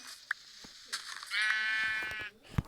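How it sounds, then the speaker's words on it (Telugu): A Minecraft sheep gives one clear, wavering bleat in the middle, fairly close and alone, surrounded by faint game clicks and taps. "షీప్ కింద పడిపోయింది."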